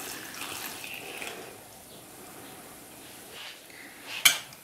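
Limewater, the settled water from a lime mixture, is slowly poured into cherries for a Greek spoon sweet, giving a soft steady liquid trickle and splash throughout, with a brief sharper clink near the end.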